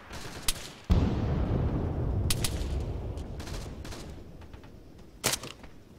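Gunfire in the ArmA III military shooter, with a few sharp shots early, then a sustained burst of heavy firing and rumbling, and another cluster of loud cracks near the end, all without talk.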